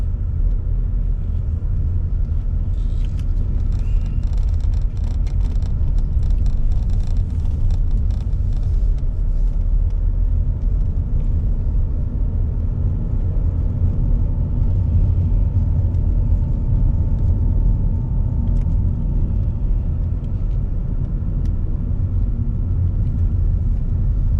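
A bus on the Playa Blanca 30 route drives around a roundabout, its steady engine rumble and road noise continuous and close throughout.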